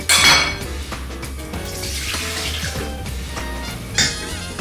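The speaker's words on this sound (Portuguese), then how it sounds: "no liquidificador nós vamos colocar primeiro uma taça de água" A cup of water splashes into a blender jar in a kitchen, a close, bubbly trickling pour with light clinks of the container over a soft background hum.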